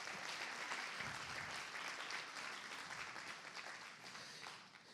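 Church congregation applauding during a sermon: faint, dense, steady clapping from a crowd, sustained throughout and tapering slightly at the end.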